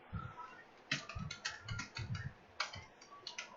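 Typing on a computer keyboard, a quiet irregular run of close key clicks in short bursts with brief pauses between them.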